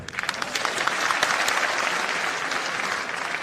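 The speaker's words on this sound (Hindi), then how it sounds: "ये ट्रांसफरों से भी ज्यादा तालियां बजिए साहब" An audience at a live political education-department event breaks into sustained applause, with a dense, even wash of many hands clapping that holds steady for several seconds.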